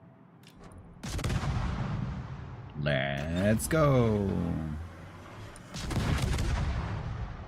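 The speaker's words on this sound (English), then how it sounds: "These guns are loud." Heavy naval gunfire from warship turrets in the World of Warships video game booms out in two loud bursts, near the start and near the end, while someone talks excitedly between the salvos.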